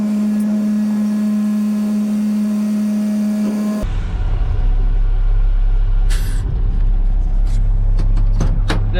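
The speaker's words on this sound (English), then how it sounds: "now I'm going to let the hoist down so that we can push it on the rest of the way." A truck's hydraulic hoist is let down on a farm: a steady mechanical hum gives way to a loud rumbling release with hissing bursts, like air brakes, near and continuous with no talk.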